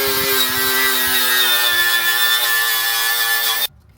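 A drill whines steadily into the steel quarter panel of an R33 Nissan Skyline, a loud, continuous tone with rising pitch and faint chatter, then cutting off abruptly near the end.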